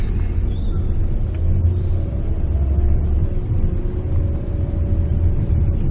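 Steady low road rumble fills the cabin of a Mitsubishi Xpander Cross fitted with NoiseKill NK60 damping, a continuous tyre and engine drone while driving, loud and even, with faint music and no talking.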